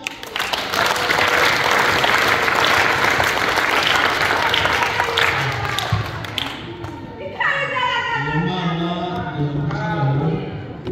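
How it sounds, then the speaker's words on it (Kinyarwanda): A church congregation applauds with loud, sustained clapping for several seconds, then the applause fades as a voice begins speaking over the last of it. "Uwiteka Imana wakoreye ibyo byose mumumpera amashyi"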